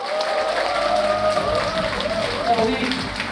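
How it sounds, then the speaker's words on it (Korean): Audience applause for the organizing staff of a fan cafe at its founding ceremony and festival, steady clapping throughout with crowd noise and voices talking over it. "박수 한번 보내주세요."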